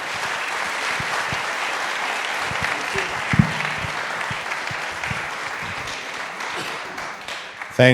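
An audience at an evening museum talk welcomes the speakers with steady, sustained applause that fills the room for several seconds without breaking.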